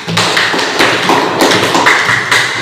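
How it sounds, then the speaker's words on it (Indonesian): Classroom applause for a student, a dense wash of many hands clapping at once, loud and continuous throughout with no voices over it. "Aplaus untuk temannya."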